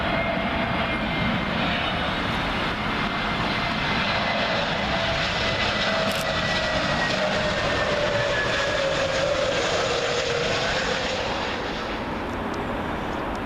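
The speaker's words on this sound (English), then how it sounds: "Lufthansa A321neo arriving from Frankfurt" A Lufthansa Airbus A321neo arriving at Heathrow Airport from Frankfurt, a steady loud jet roar with a slowly shifting engine whine that holds for the whole stretch, no voices.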